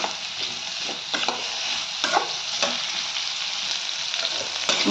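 Bitter gourd fries in oil with a close, continuous sizzle, broken by a few sharper crackles and the scrape of stirring, and no voices.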